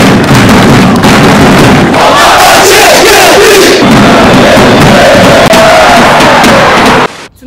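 Loud, dense crowd of football supporters from the famous 13th sector roaring and chanting in a Kazakh stadium, a continuous wall of voices with shouts rising and falling, cutting off abruptly at the end.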